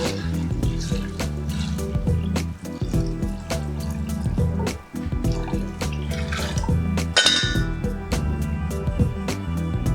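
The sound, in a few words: pouring vegetable broth into pumpkin soup pot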